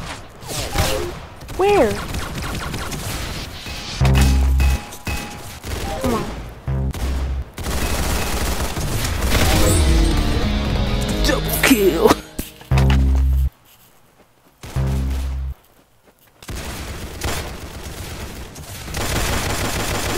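Gunfire in the Roblox shooter Arsenal: bursts of shots and low thuds come and go across a busy match, with a brief near-silent pause, while a player talks over much of it.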